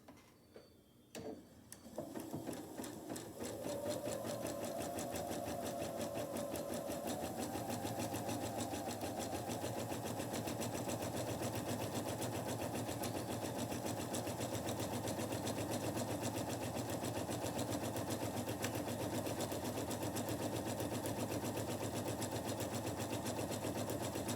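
A sewing machine zigzag-stitches close along a fabric edge while making a face mask, starting after a few clicks, then a rapid steady mechanical rattle running continuously, close and even.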